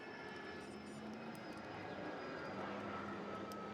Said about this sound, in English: And there goes the plane.